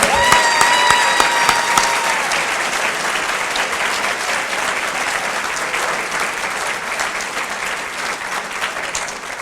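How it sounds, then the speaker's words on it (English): An indoor audience claps for honored teachers at a county Teachers of the Year ceremony, dense sustained applause that starts loud with a few cheers and slowly tapers. "How about a round of applause for our Teachers of the Year?"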